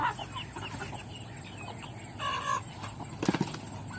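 Free-ranging village chickens on a Lao home garden farm, kept alongside ducks, cluck close by with a brief flutter of wings. Scattered clucks end in a louder burst of calls, with no speech.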